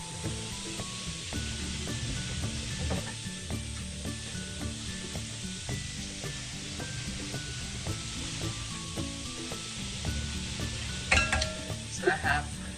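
Strawberries cook in a preheated pan, three pounds of them, giving a steady low sizzle with soft stirring and scraping. A few brighter clinks and scrapes come near the end.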